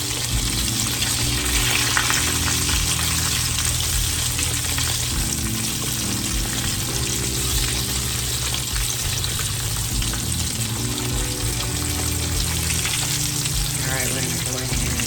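Catfish pieces frying in a pan of hot grease give a steady, loud sizzle and crackle throughout, with faint water and kitchen sounds in the background.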